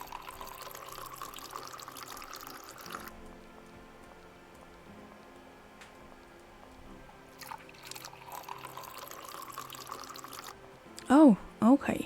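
Water poured onto a plant in the horror game Botanophobia, a steady soft splashing trickle lasting a few seconds under a gameplay music bed, followed by brief louder game sounds.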